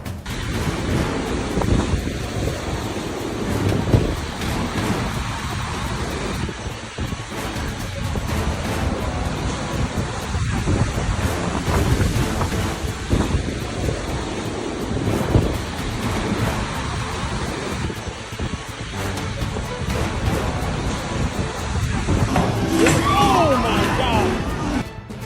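Storm wind and heavy waves roar without pause around a luxury cruise ship at sea, a dense, loud wash of rushing air and surf that runs through the whole stretch.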